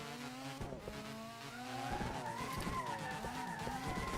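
A Nissan S13 drifting in a racing video game, with a sustained tire screech wavering in pitch over a steady engine drone, loud and continuous with no talk.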